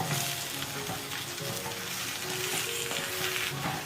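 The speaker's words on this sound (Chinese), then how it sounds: "加入萝卜翻炒" Radish chunks stir-fried in a wok with shrimp oil, ginger slices and shrimp heads, a dense, continuous sizzle with scraping stirs and small clatters close up.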